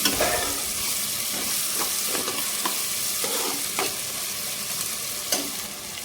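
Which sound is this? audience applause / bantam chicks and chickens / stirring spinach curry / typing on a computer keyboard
stirring spinach curry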